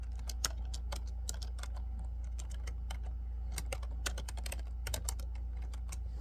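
Keys clack steadily on a computer keyboard in close, irregular bursts of quick strokes, with brief pauses between runs and a low steady hum underneath.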